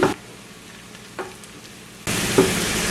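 A shrimp and egg omelette fries in a pan with a soft crackling sizzle, quiet at first with a couple of brief stirring clunks, then the frying suddenly grows louder and fuller near the end.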